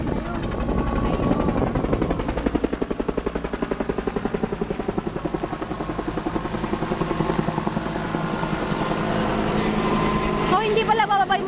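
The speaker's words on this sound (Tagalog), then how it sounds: "hindi pala bababa yung mga helicopter?" Helicopters overhead during a rescue give a loud, continuous rotor thump with a steady, rapid beat that lasts throughout, close by and dominant, while people talk beneath the noise.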